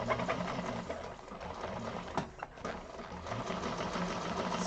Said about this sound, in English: You're just doing an extra row of stitching